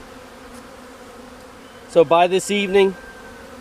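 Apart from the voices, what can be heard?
package honeybees buzzing while leaving the box for the hive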